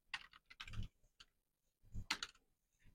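Someone types on a computer keyboard in short clusters of quick, close key clicks, a pause between two bursts of tapping, with a quiet room around them.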